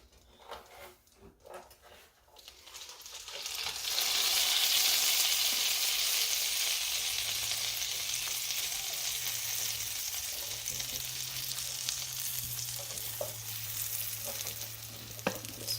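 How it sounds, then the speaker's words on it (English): Banana pancake batter frying on a hot skillet, a steady broad sizzle that swells after a few seconds and holds loud and close, with a low hum running underneath. "We're going to put some pancake mixture, banana pancake mixture on our skillet."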